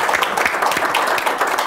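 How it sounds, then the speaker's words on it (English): An audience gives a brief round of applause for the speakers at the close of a learning session, steady clapping from many hands throughout. "if we could give our speakers a round of applause"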